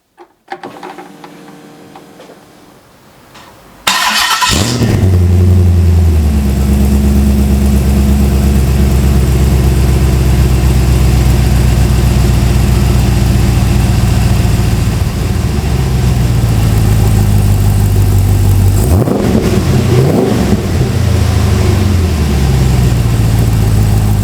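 A GM LS3 V8 in an Ultima RS kit car cranks over and fires after a few quiet seconds, then idles loud and close with a deep steady rumble, briefly blipped to a higher pitch before settling back.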